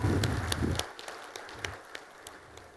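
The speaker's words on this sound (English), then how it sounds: "Please, round of applause for yourselves." Audience applause at a Laracon conference talk, a brief burst of dense clapping that fades within a second into a few scattered, isolated claps.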